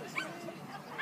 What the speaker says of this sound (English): And my least favourite dog in the world.